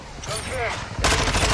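A hostile mortar strike in a multiplayer shooter video game: a sudden loud broadband blast cuts in partway through, following a stretch of gunfire and game effects, with a player's voice briefly over the mix.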